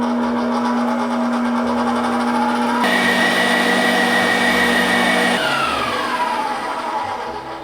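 An electric hand mixer whips egg whites in a bowl until frothy, a steady loud motor whine running throughout and shifting pitch twice as the speed changes.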